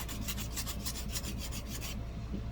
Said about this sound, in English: I hate the sound of sanding.